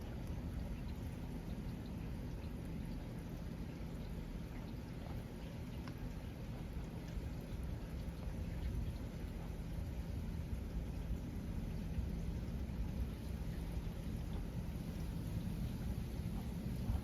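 Severe summer thunderstorm on August 4th, 2024: steady heavy rain hisses throughout, with low rolling thunder rumbling beneath it, loud and continuous with no voices.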